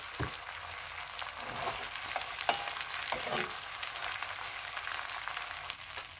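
Chicken frying in mustard oil gives a continuous, close hiss and crackle, broken by occasional scraping knocks of stirring.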